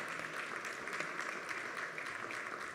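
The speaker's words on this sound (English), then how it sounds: "please give a round of applause for our panelists." Audience clapping for the panelists at a digital twin and AI conference in the Middle East, steady and dense throughout, filling the room without a break.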